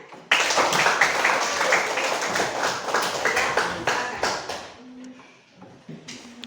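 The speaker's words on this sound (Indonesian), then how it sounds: "mari kita berikan aplaus kepada kelompok 1 yang sudah mempresentasikan hasil kerjanya" Group applause in a classroom after a group's presentation: a dense, lively burst of many hands clapping, loud and close, lasting several seconds before thinning out and fading into quiet.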